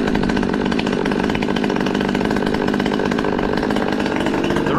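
A Husqvarna T540 XP Mark III chainsaw, fresh off the bench, idles steadily on its own through auto-tune reset and calibration, a loud, continuous buzzing drone with no breaks.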